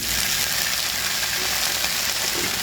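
Mint leaves frying in a pan for peanut mint chutney: a steady, close sizzle that hisses on without pause and no voice over it.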